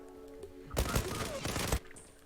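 Gunfire from a dense automatic burst in the multiplayer shooter Zula, loud and close, lasting about a second over faint background game ambience.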